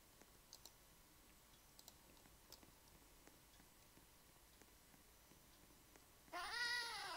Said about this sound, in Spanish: Está todo lleno de gatos extraños, tío.